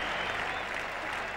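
A packed cricket crowd at The Oval roars and applauds a wicket during the 1981 England v Australia Test, a dense, steady wash of clapping and cheering that carries evenly throughout.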